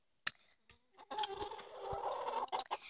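Chickens, an Americana and a Rhode Island Red, give a short burst of close clucking and grumbling calls after a sharp click, fairly quiet and alone.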